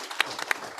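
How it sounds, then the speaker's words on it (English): A conference audience at the AFROSAI-E technical meeting gives a brief round of applause, a sparse, fairly quiet patter with a few louder individual claps spaced through the moment. "Let's give him another round of applause."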